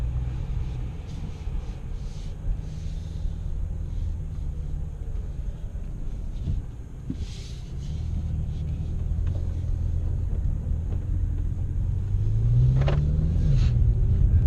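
A 2017 BMW M6 Gran Coupe Competition pulls away from a stop, its engine a steady low rumble that builds gently toward the end, heard from inside the cabin with no talking.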